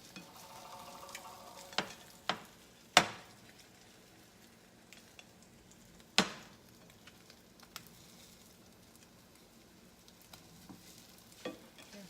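A keto cream cheese pancake fries softly in a pan while a spatula scrapes beneath it, giving a few sharp clicks and scrapes over a faint, steady sizzle.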